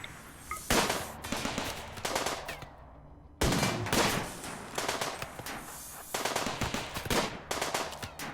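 Bursts of automatic gunfire and blasts during a siege in the video game RimWorld, loud rapid volleys separated by brief pauses, one heavy explosion-like shot in the middle, no speech.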